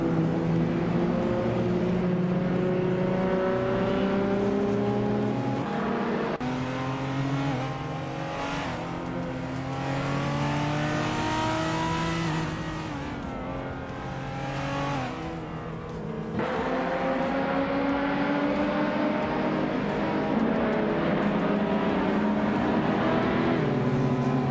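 A pack of racing cars in a video game race roars in continuous, loud engine drones with rising and falling revs as gears shift, shifting as cars pass, with no talk over it.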